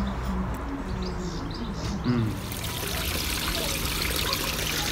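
Soft, steady trickle of water from a small waterfall in a freshly set-up home fish tank with oxygenating plants, a continuous low splashing wash that runs throughout, with faint chirp-like tones mixed in early on.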